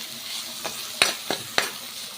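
Homemade ginger garlic paste frying in hot oil in a kitchen pan, a steady soft sizzle with several sharp crackles and pops spaced through, close and moderately loud, no talking.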